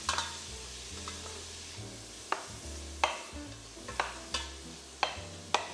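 Minced pork frying in a pan while it is broken up, a quiet background sizzle under sharp, repeated clacks and scrapes from the spatula, about once a second and growing more regular.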